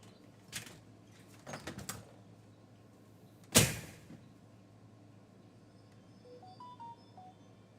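A door shuts with a single sharp thud midway through a quiet room, following a few softer knocks and rustles, then fading into faint background noise.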